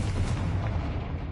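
Confringo blast spell going off in Hogwarts Legacy, a dense rumbling explosive boom that fills the short moment with heavy low-end crackle at steady loudness.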